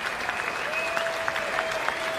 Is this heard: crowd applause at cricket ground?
yes